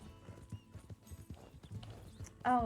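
Horse hooves clip-clop in a steady, brisk rhythm in the video game Red Dead Redemption 2, close and continuous, ending in a short whinny.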